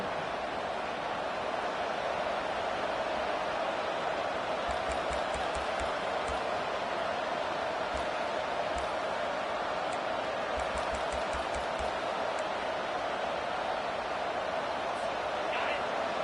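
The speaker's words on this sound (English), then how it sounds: "Here comes the crowd trying to make it tough on 3rd and long." Home football stadium crowd roaring on third down, a steady, dense wall of cheering noise with scattered sharp claps, while a commentator talks over it.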